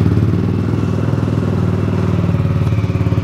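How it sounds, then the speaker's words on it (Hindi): A Jawa 42 Bobber motorcycle fitted with an aftermarket exhaust idles close by, a loud, steady, deep thumping burble with rapid even pulses and no talk. "अब मैं आपको इसकी एग्जॉस्ट की साउंड सुनाता हूँ"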